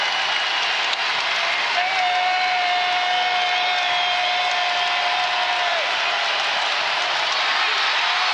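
A packed arena crowd at a Kansas State vs Texas Tech college basketball game roars and cheers steadily and loudly after a foul, a dense, sustained wash of noise with a whistle-like tone rising through the middle.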